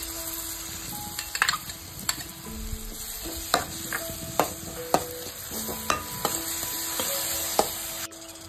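Spoon stirring chicken marinade of salt, chili powder and yogurt in a bowl, a steady scraping mix with repeated sharp clicks and taps against the bowl, fairly close and alone with no talk.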